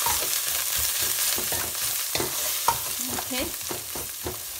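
Rajma and black urad dal masala with haldi and red chili powder cooking over a slow flame, with steady sizzling and frying and repeated scrapes of a spoon stirring through the pan, close and continuous, a brief spoken word at the start.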